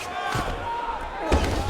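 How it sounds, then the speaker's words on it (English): Crowd in a UFC 5 mixed martial arts video game on PS5 erupts in a loud roar and cheer, swelling sharply near the end over a steady arena murmur. "big pop from the crowd as they get back to their feet"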